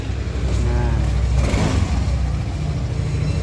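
Yamaha Fino 125 scooter engine idling steadily after its bearing was replaced, a close, continuous mid-pitched hum with a slight rise in revs midway.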